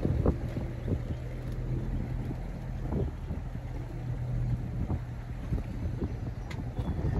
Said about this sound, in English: Breezy today.